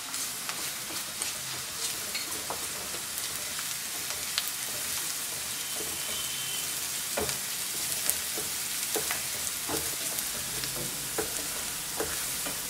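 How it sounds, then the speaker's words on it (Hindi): Ginger garlic paste fries in a pan with a steady, hissing sizzle and scattered crackles and pops, heard close and moderately loud, with no talking. "जिंजर गार्लिक थोड़ा सा फ्राई होने के बाद अब हम इसमें ये बेल पेपर्स ऐड करेंगे।"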